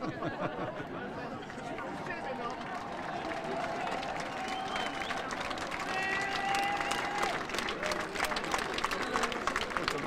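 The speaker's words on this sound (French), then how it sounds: "Des applaudissements." A street crowd applauds during a protest against the health pass in La Rochelle, scattered clapping mixed with chatter and outdoor bustle, with voices talking throughout.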